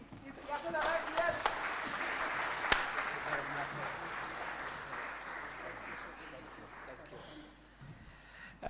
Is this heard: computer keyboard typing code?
no